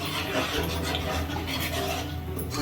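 Steady scraping and swirling of kheer mix being stirred into milk in a pot, a continuous close rubbing texture with faint metallic contact from the utensil, no talking.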